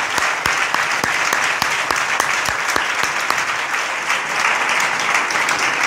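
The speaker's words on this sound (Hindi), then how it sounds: "तो अपने पासबानों के लिए ज़ोरदार तालियां बजाएं।" A church congregation gives its pastors loud, sustained applause, a thick, close wash of clapping with some sharp individual claps standing out throughout.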